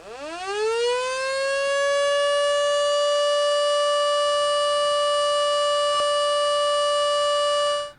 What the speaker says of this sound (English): we're going to take the opportunity now to play that siren